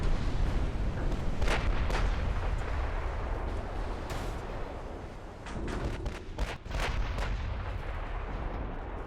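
Naval gunfire from battleships in Ultimate Admiral: Dreadnought, repeated booming shots over a dense, continuous roar of battle, heard loud throughout without speech.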